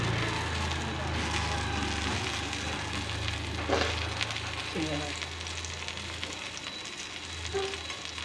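Eggs sizzle and crackle steadily in a hot pan while a spatula presses down on them, with a few soft scraping touches and a voice speaking briefly over the frying.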